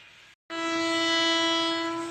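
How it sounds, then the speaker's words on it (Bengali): A train pulling into a station sounds a loud, sustained horn, a rich steady tone that holds for nearly two seconds after a brief pause in the background rumble. "ট্রেনটা ঢুকে গেছে স্টেশনে"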